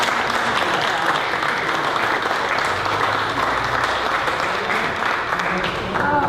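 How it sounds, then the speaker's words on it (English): Audience at a county Democratic club meeting applauding steadily for about six seconds, a dense, even wash of many hands clapping at once in a room. "So please, let's have a round of applause."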